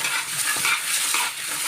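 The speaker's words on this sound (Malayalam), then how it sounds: "ഉപ്പിട്ട് നന്നായിട്ട് ഇങ്ങനെ തേച്ചരക്കുക" Mackerel being scrubbed with salt in a clay pot, a steady gritty rubbing and scraping with soft wet friction, close and continuous with small swells, no voices.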